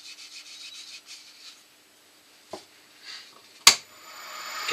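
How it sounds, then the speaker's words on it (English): Kitchen towel rubs Hampshire Sheen wax onto a turned wooden foot massager roller, making soft, quiet rubbing strokes in short bursts, then a few sharper scuffs and a loud knock followed by rising friction noise. "I'm going to take a bit of kitchen towel and apply some Hampshire Sheen to it."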